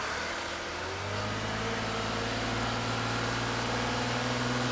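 A diesel engine in neutral revs up to about 2,500 RPM, a steady low drone that rises and holds as a loud, continuous hum with no talking.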